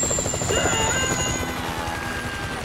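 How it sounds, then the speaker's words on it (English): A helicopter in the video game GTA V drones steadily with a loud, rhythmic rotor chop that stays close and fills the whole moment, with no talking over it. "Chopper, incoming."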